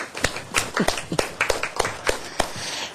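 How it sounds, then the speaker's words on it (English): A small group claps in a loose, sparse rhythm, about a dozen distinct hand claps spread over a few seconds, fairly close and moderately loud, with no talking over it. "would you please give this group a round of applause"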